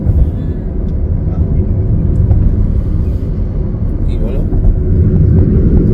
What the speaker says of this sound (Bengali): ওই দেখ রে ওই ট্রেন গাড়ি যাচ্ছে হ্যাঁ মালগাড়ি